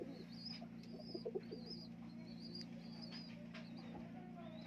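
High-flying Kamagar pigeons cooing softly, with low rhythmic coos blending into a steady loft hum, while higher chirps and calls repeat faintly throughout.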